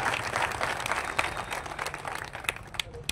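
An audience claps through a Marathi political speech, with a steady, moderate patter of hands and scattered sharper claps, along with some crowd murmur.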